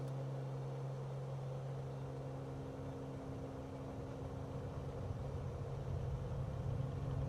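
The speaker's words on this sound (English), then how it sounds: "Brakes set until we reach full engine RPM." Simulated aircraft engine in Microsoft Flight Simulator, on a bush trip over Germany, held at full RPM with brakes set: a steady, faint, low droning hum that holds evenly, with no talking.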